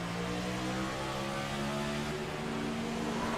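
Race car engine from the iRacing sim during a NextGen Cup Series race at Kentucky Speedway, a steady harmonic drone held at constant loudness, pitch shifting slightly as the gear drops, with no talking.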